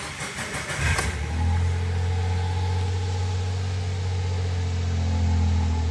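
A 1999 Suzuki Jimny with about 95,000 km cranks briefly in a cold start, catches after a second, and settles into a loud, steady, low idle close by.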